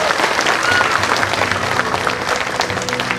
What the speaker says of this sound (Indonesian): Tepuk tangan dulu bagi Allah kita.